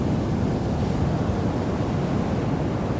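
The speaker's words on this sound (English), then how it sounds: "This is my favorite beach because it's always desolate." Ocean surf rolls onto a quiet, deserted stretch of Melbourne Beach, Florida, as a steady, loud wash of breaking waves with wind buffeting the microphone and no voices.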